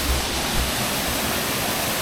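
Waterfall on the Mindo waterfall trail, the fifth and final fall, rushing as a steady broadband roar that fills the air without breaks, close and even throughout.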